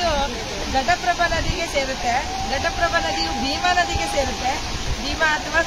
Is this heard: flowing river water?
yes